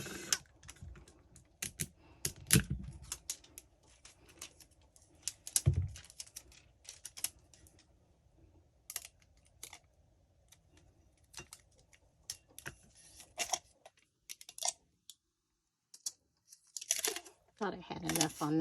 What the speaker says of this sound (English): put heating tape going around the mug on the top part